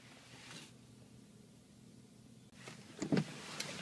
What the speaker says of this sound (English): Also the rear power sliding window.